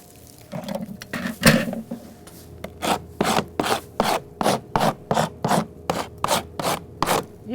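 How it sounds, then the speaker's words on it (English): Old paint scraped off wooden shakes with a hand scraper: a run of about a dozen rasping strokes, loud and close, coming at a steady rhythm and quickening toward the end, with no talk. "Let me just show you a second of how hard it is to come off with a scrape."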